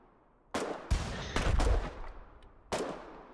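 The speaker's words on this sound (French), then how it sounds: "Il y a des Warden qui tirent au fusil à pompe pour reprendre la locomotive" Shotgun blasts in the video game Foxhole as Warden soldiers fight to retake a locomotive: four loud, sharp booming reports in irregular succession, two close together in the middle, with a dense echoing tail.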